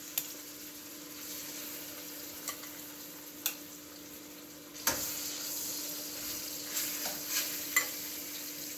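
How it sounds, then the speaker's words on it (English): Steady frying sizzle crackles in a pan of chicken, with a few sharp ticks and pops; no voices, just the continuous hiss of food cooking close by. "So now I'm going to let this in here sizzle for a little bit"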